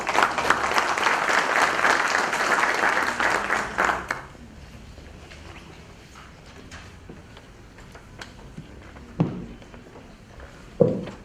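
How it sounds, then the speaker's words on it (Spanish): An audience at a national notaries' gathering in Cusco applauds a welcoming speaker, dense clapping for about four seconds before it stops abruptly. A quiet room follows with faint shuffles and a couple of sharp knocks. "Lo recibimos con fuertes aplausos"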